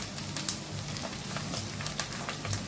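Diced potato and carrot sizzling in oil in a pan, a steady close crackle with small pops and occasional stirring scrapes, no voices.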